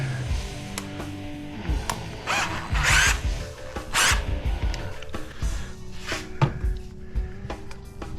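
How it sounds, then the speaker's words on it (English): A small countersink bit cuts into sheet aluminum in short bursts of whirring, grinding drill noise, separated by brief pauses and handling clatter, close by. "now we got to countersink them. And hopefully this little countersinker will do the trick."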